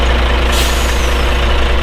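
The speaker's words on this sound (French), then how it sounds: "Vous pouvez couper le moteur, s'il vous plaît." A heavy goods truck idles steadily and loud and close at a roadside check in Avallon, with a brief hiss of air brake release midway through, and no voices.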